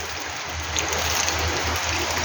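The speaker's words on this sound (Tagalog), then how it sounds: "medyo malakas-lakas yung ulan" Heavy rain falling steadily outside a house in a leafy area, a dense, loud, continuous hiss close by with no talk.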